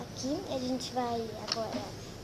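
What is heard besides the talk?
No everyday noise stands out behind the speech.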